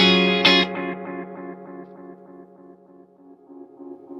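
A single electric guitar chord struck once through an analog delay pedal, followed by a steady train of echo repeats that fade gradually and stay rhythmic to the end.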